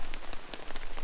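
Rain falls during a backcountry paddling trip in Killarney, a steady close patter of drops on a surface with no voices.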